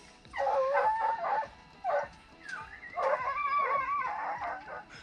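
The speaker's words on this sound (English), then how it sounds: "One dog barking because another dog's barking." Hunting dogs bark and bay loudly and close, in repeated overlapping bursts of yelps and drawn-out cries with short pauses between them.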